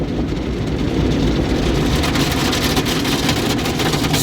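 Water spraying at a Florida car wash, a dense, loud, steady hiss and patter that holds without pause and with no voices.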